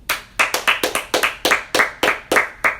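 Hand clapping, roughly fourteen sharp claps in a steady, slightly uneven rhythm, close and loud, with no talking over them.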